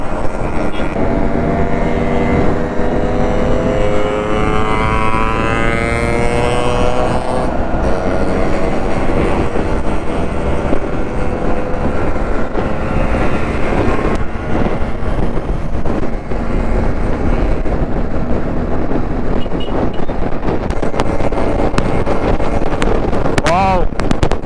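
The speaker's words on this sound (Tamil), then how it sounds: "அவ்வளோ RX எல்லாம் லைனப் பண்ணி போயிட்டுருக்கோம் ஒரே க்ரூசிங்கில்" A line of Yamaha RX two-stroke motorcycles cruises together on a hill road. Steady, rising engine drones blend under heavy wind buffeting, and voices may be present.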